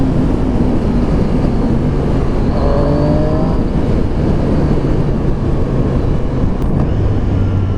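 A Triumph Street Triple 765 RS motorcycle engine accelerating, a loud continuous roar with rising tonal sweeps as revs climb, heard close and alone without talk.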